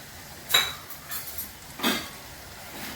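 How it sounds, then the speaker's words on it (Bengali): A utensil scrapes and clinks against a pan while spice masala is stirred and sautéed for masala paneer, giving a few distinct metallic strokes over a quiet background. "এবার মশলাটাকে ভালো করে কষিয়ে নেব।"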